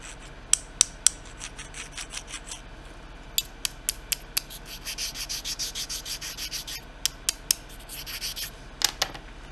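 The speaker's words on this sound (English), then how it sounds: "they have kind of a ceramic-y sound when you scrape them against each other." Fired, low-temperature sintered ceramic samples scraped against each other make short, sharp scratchy rasps and clicks. The strokes come in irregular bursts, close up and fairly quiet, and no one speaks.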